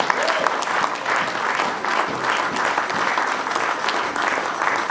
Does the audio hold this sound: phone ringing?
no